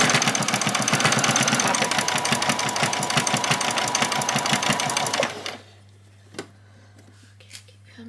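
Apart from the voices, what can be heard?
sewing machine back stitching fabric for a doll's dress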